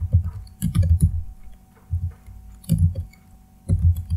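Keyboard typing in bursts of quick clicks separated by short pauses, close and clear with no talking, as JDBC URL code for a Java MySQL connection is entered on a computer keyboard.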